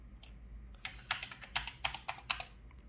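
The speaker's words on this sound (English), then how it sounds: "Considering the age of the keyboard, it actually works pretty well." Typing on an old Commodore 65 computer keyboard: about nine crisp clacking keystrokes in an uneven rhythm, close and fairly quiet, with no talk.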